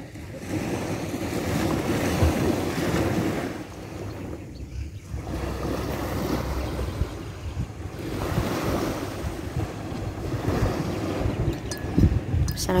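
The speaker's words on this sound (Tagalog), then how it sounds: "Naririnig mo yung paghampas ng alon sa dalampasigan." Waves breaking on a beach shore in steady, rolling surges, with wind buffeting the microphone throughout and no talk.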